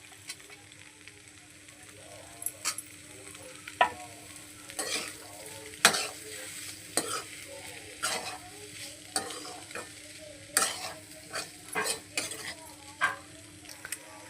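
Fried paneer pieces tossed into a pan with chilli powder, producing a soft sizzle under repeated sharp scrapes and clinks of a spoon against the pan in an irregular stirring rhythm.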